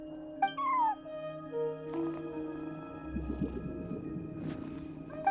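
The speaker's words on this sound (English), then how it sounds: "No one except for a cat watching over the front desk." In the video game Genshin Impact, a cat at a front desk gives a short rising-falling meow over a quiet tonal background, then a low rumbling purr-like texture swells in the middle, with a few soft chimes.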